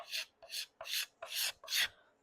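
Five rhythmic rasping strokes from a hand scraper shaving a wooden guitar neck, each a bright, breathy scrape about a third of a second long, close and clear with short pauses between them.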